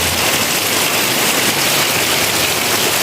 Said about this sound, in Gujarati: ધોધમાર વરસાદ ભાઈ.